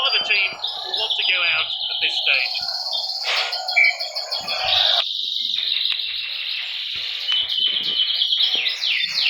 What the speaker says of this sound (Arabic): ثم الآن تسمعون تغريد